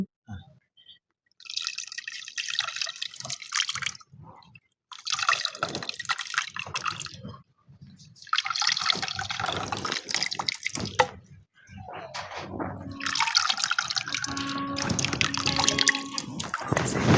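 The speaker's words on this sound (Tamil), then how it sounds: "அதனால இப்பயே புளி தண்ணியை ஊத்திடலாம்" Tamarind water poured into a cooking pot for fish curry, a close, steady splashing stream of liquid in several bursts with short pauses, no talking over it.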